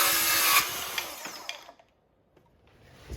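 A small Festool cordless saw cuts through wood close by, the loud buzzing cut lasting about a second and a half before winding down to quiet, then starting up again at the end.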